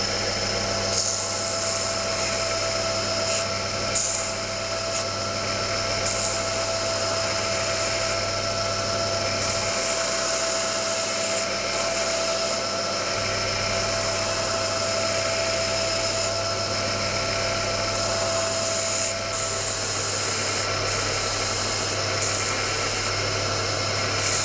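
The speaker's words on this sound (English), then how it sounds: "then onto the belt sander to round it all off" Belt sander rounding off a wooden fishing lure makes a continuous loud whirring drone with a steady tone and a gritty abrasive rasp throughout. Pressure and pitch shift slightly as the wood is worked.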